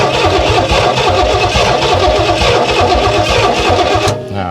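A 1968 Oldsmobile Toronado that sat unused for decades cranks hard, its starter chugging in a fast rhythmic churn, loud and close, cutting off abruptly at the end without catching.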